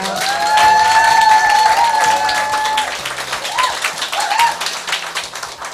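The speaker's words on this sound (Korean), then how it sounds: "회장님 박수로 환영해 주세요" A crowd claps in warm, sustained applause, with a few tonal sounds and faint voices mixed in, gradually thinning toward the end.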